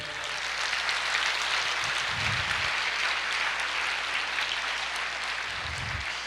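A church congregation applauds during a sermon, a loud and continuous roar of clapping that holds steady for over six seconds.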